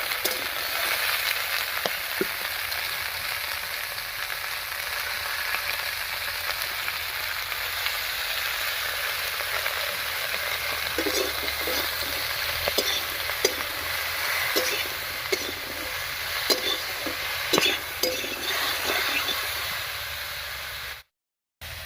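Malabar spinach fries in a pan with tempered spices, salt and turmeric, making a constant close sizzle. In the second half, repeated stirring scrapes and clicks cut through before the sound stops abruptly.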